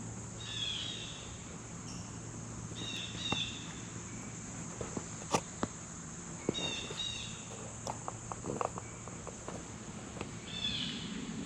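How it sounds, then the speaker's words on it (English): Birds chirp and sing in short bursts across a quiet outdoor spot on a nice day, fairly faint over a steady background hiss, with occasional soft footstep-like taps and a distant road. "All you hear is birds."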